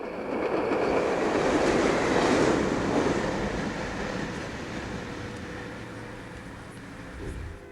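A Burlington Northern passenger train, combined trains 25 and 31 running as the North Coast Limited and Empire Builder, rolls past with a steady broad rumble that swells and slowly fades, faint wheel clatter underneath.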